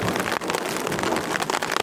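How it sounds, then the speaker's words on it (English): Dense hail and rain patter hard on a stretched camping tarp in the high country, a close, continuous drumming with scattered sharper strikes and no voices. "hailing again, just like yesterday."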